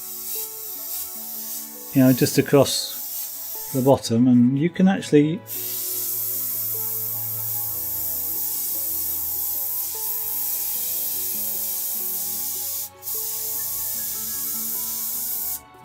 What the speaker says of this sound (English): the only way to get the paint out of it is to spray it out